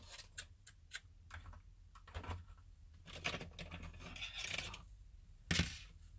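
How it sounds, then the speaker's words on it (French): Precision scissors cutting paper at close range, a series of small crisp snips and clicks in uneven rhythm, fairly faint, with some light rustling. "je vais prendre mes ciseaux de précision"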